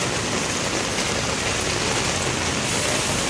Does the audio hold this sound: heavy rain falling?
yes